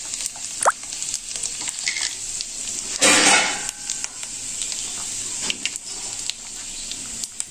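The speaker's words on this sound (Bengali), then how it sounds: "এবার আমি পাশের কড়াইতে জিরে, লঙ্কা, তেজপাতা আর গরম মশলা ফোড়ন দিয়ে দিলাম।" Cumin, chilli, bay leaf and garam masala sizzling in hot oil in a kadai, a crackling fry with scattered pops and a louder sizzling burst midway, no talk.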